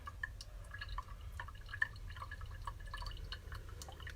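Slow, faint drips of coffee through finely ground beans fall one at a time over a soft steady background hiss, with no talking.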